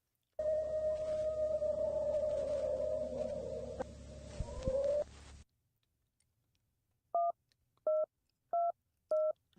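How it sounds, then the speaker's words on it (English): Old-school telephone dialing tones, four short evenly spaced beeps, sound alone and clear after a stretch of steady humming drone. "That's an old school phone."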